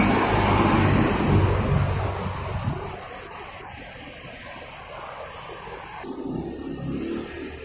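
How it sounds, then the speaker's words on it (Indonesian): An Aurel Trans intercity bus bound for Java departs from the ALS bus pool in Palembang, its loud, deep engine rumble fading as it pulls away, with a short hiss of air brakes midway and traffic noise returning. "Baru saja diberangkatkan bis Aurel Trans tujuan Pulau Jawa"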